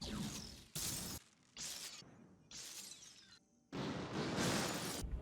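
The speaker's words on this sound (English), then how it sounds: "There's a lot of glass breaking sound effects." Glass shattering effects from the video game SUPERHOT: Mind Control Delete: four loud, broadband crashes in quick succession, each a sharp burst of breaking glass with scattering debris, separated by brief quieter gaps.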